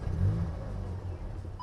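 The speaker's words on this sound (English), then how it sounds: "I'll just kind of start the car up so you can hear the noise it makes" A VW Golf GTI MK8 engine fires up inside the car, a low steady rumble with a slight rev at the start, fairly quiet and heard without any talking.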